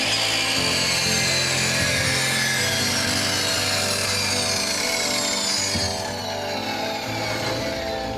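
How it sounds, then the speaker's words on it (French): A repaired power saw running and cutting through wood for building wooden boxes, a steady loud buzzing whine with rising rasping tones as the blade bites, continuous and alone for several seconds. "ça marche, j'ai réparé la scie"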